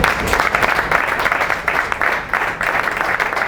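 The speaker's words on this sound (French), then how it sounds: "Applaudissez, applaudissez, applaudissez." An audience applauds and cheers steadily to welcome new party members at a political party gathering, a dense continuous wash of clapping from a large crowd throughout.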